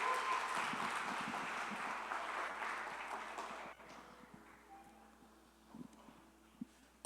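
A church congregation applauds with dense clapping that fades away after about four seconds, leaving near silence with a few faint knocks.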